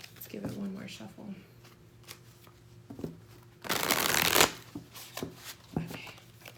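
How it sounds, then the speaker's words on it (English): A quick, loud riffle of tarot cards being shuffled stands out mid-clip, surrounded by soft handling sounds and a voice speaking before and after. "Let's give it one more shuffle."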